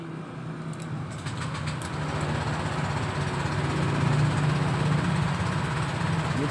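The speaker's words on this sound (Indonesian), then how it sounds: "selanjutnya kita coba starter teman-teman ya" Electric starter on a Honda Vario 150 scooter cranking steadily with a continuous, close mechanical whir that builds slightly and holds without voices.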